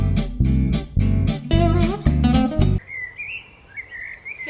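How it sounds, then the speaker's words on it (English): A few short, thin bird chirps sound faintly in a back garden after several loud knocking or thumping sounds close by, the calls brief and sparse against a quiet background. "Hear that? That's a bird."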